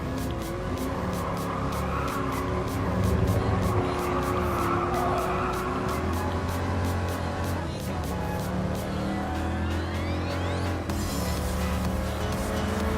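A Toyota A6 GT classic muscle car races in Gran Turismo Sport, its engine droning loud and steady while tires squeal and skid, with other cars roaring nearby and a rising pitch near the end.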